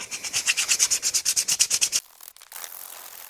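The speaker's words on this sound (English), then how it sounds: "Now for the best part, sanding." Rhythmic back-and-forth sanding strokes rasp against wood for about two seconds, close and fairly loud, then give way to quiet handling noise.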